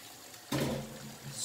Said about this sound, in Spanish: Voy a ponerle ya su poquito de agua